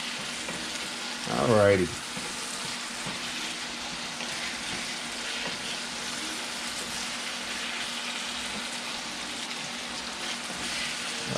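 Taco filling with onion frying in a pan gives a steady, fairly loud sizzle throughout. A short burst of stirring scrape lands near the start, and a voice speaks briefly over it.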